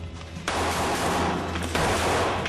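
A dense, continuous burst of rapid gunfire, loud and unbroken, with sharper cracks standing out in the roar.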